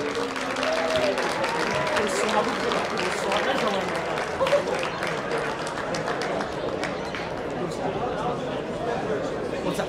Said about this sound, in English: Can we get a round of applause for the officials,